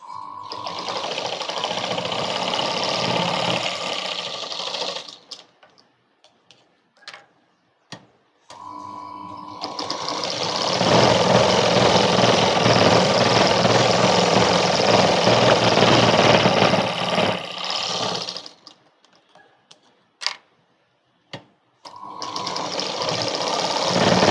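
A sewing machine stitches baby frock fabric in long, loud, steady runs of rapid mechanical whirring, broken by short pauses with faint clicks and ticks as the fabric is repositioned.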